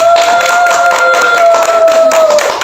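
Audience clapping at a morning gathering welcoming the founder of a reading stall, a steady dense patter of hands close by, with a sustained tonal hum running beneath and no talking.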